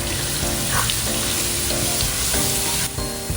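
Garlic fries in about a ladle of hot oil for Mee Siam noodles, a loud dense sizzle with stirring clatter throughout and no voice.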